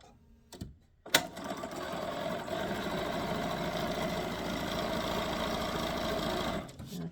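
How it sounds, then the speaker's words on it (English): Sewing machine stitching fabric pieces with a quarter-inch seam, starting after a brief clunk and running in a steady, rapid mechanical whir for about five seconds before stopping, close and uninterrupted. "Take it to your sewing machine, 1/4 inch on either side."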